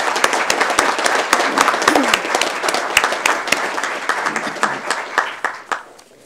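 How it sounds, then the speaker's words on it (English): Steady applause from an audience at a school board meeting, many hands clapping together for several seconds before gradually thinning out. "Why don't we give them a round of applause for working together so nicely."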